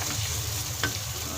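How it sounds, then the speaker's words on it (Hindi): Dried red chilli, ground red chilli and turmeric roasting in hot oil in a pan for a Lahori chickpea dish, a steady close sizzle with soft stirring scrapes and no talk. "इसको 2 मिनट हम इसकी बुनाई करेंगे, इसका कच्चापन ख़त्म हो जाएगा।"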